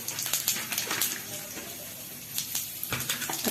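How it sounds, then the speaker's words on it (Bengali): Whole cardamom and cumin seeds hit hot oil in a pan, giving a steady close sizzle and crackle with small popping bursts throughout. "আমি একটুখানি গোটা এলাচ ফোড়ন দিলাম, একটু জিরে ফোড়ন দিলাম"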